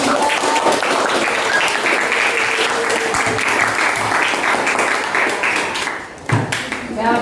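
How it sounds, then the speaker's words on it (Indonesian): Classroom applause from a class of junior high students, dense continuous clapping from many hands that fades near the end, with some voices mixed in. "Kita berikan tepuk tangan."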